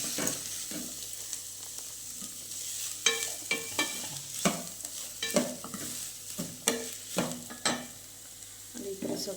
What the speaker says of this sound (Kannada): ಈರುಳ್ಳಿ ಹಾಕಿದ್ಮೇಲೆ ಈ ಥರ ಫ್ರೈ ಮಾಡಿ ಸ್ವಲ್ಪ.